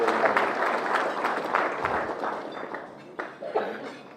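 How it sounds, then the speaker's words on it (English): Audience applause fills a junior football presentation night, a steady patter of clapping that tapers off toward the end, with a few louder claps and some voices mixed in. "Another round of applause again."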